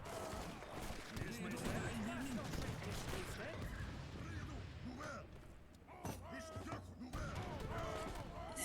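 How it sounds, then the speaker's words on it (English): Age of Empires 3 infantry fire off a dense fusillade of musket shots mixed with crashes and clattering battle noise, a constant busy din with a voice talking over it. "I love watching infantry guns kill everything."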